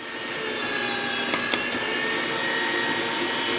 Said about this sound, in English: I have some huge cloves of garlic I'm also going to put in here. I'm just going to grind them up.